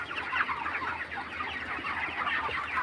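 A crowd of broiler chickens on a farm clucks steadily and densely throughout, many overlapping birds close by with no break in the chatter.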